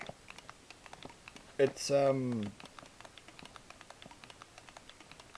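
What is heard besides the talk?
clicking of a micro switch arcade joystick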